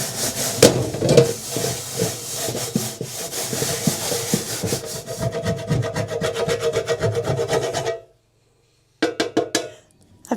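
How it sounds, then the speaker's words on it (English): Steady rhythmic scrubbing rasps against the blackened bottom of a dirty dye pot, close and gritty, then stops briefly before a few more strokes. "I've been scrubbing now for about 30 minutes and this is what I have"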